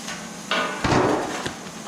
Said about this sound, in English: I have one of these cool hole punchers which saves a lot of time.